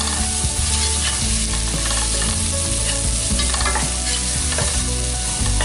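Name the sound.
stirring capsicum and onion frying in a pan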